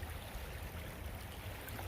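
Swift creek water flows in a steady, faint, even wash with no breaks, heard outdoors on a March day with no one talking.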